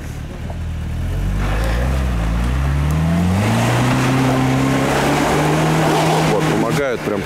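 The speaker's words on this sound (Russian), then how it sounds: "по очереди прокручиваются задние колеса" Engine of a new UAZ Patriot with locking differential revving hard off-road in mud as the rear wheels spin in turn, a loud sustained roar rising in pitch, with splashing and a brief voice.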